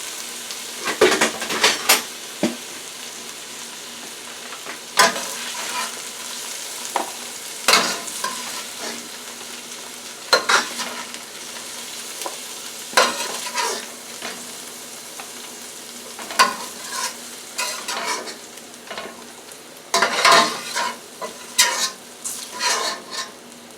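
Vegetables sizzle and fry in a pan alongside a T-bone steak, with a steady hiss under repeated scraping and clanking as a utensil stirs them, the clatters coming in irregular bursts up close.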